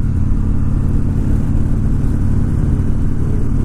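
A motorcycle engine drones steadily at close range while riding, a constant low rumble with no breaks and no voices over it.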